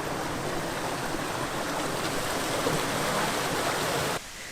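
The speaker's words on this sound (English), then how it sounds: "Behind me there, it's pouring, or it was pouring." Torrential rain pours down outside a house during a storm, a dense, steady roaring hiss that stays loud and unbroken for several seconds before dropping suddenly quieter right at the end, with no voices.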